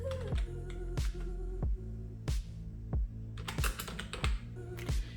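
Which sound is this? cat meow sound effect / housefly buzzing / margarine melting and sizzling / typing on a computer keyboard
typing on a computer keyboard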